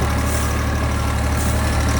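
A tractor pulling a Lemken plough on autopilot runs loud and steady, a dense low engine drone with no break and no voices.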